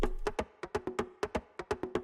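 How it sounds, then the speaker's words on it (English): Hand drums play a quick, bouncy pattern of mid-pitched slaps and tones, clear and close, looping in a lively groove without any voices. "The first one is a kind of conga bongo loop,"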